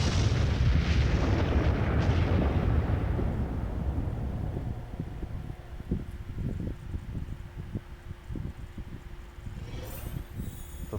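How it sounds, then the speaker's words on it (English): A massive explosion detonates in the video game Honkai Star Rail, a loud, deep blast that rumbles and slowly decays over several seconds into a low crackling tail. "Explosion pulse, detonate."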